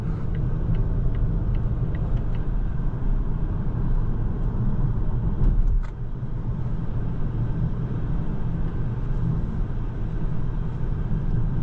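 A 2026 Volvo XC40 B5 Ultra Black Edition driving on the road, heard from inside as a steady low engine and road rumble that holds constant, with a small dip partway through and no talking.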